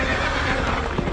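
A horse neighs loudly in a Star Wars film scene, a short strained whinny over a dense wash of battle and hoofbeat noise with no speech.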